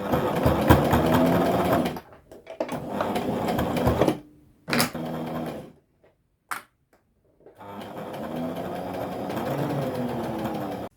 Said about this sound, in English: So I'm just going to do a running stitch across here.